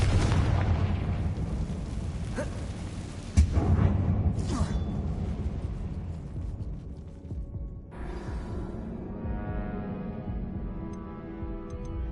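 A Confringo fire-spell explosion from the Hogwarts Legacy video game goes off inside a mine that resembles a tomb, one sharp close blast amid rumbling combat noise that settles into a quieter hum.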